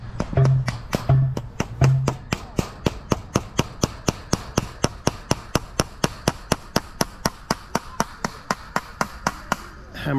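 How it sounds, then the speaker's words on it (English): A hammer drives a staple into a wooden post in an orchard, striking about thirty sharp blows in a fast, even rhythm, loud and close. "Hammering that into the post,"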